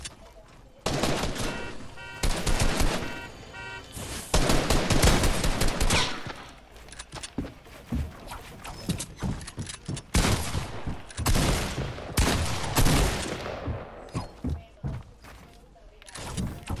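Machine gun fire in the video game Fortnite, with loud bursts of rapid shots in repeated clusters separated by short pauses, some closer and some further off.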